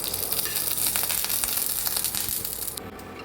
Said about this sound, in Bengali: কড়াই গরম হয়ে গেছে, আমি ঘি দিয়ে দিচ্ছি সামান্য